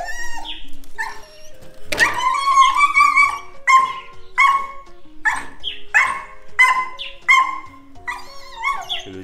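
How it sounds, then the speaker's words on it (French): A dog in western Cameroon, during a hunt for a live giant rat, whimpers and yips in a string of high whines and short barks, repeated every second or so, close and fairly loud, without talk. "C'est le chien qui voit sa nourriture."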